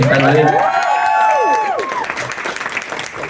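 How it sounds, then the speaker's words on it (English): A concert crowd in Sydney claps and cheers while a voice whoops and calls out over the applause, which fades into scattered clapping. "Can we give Rod a round of applause as well?"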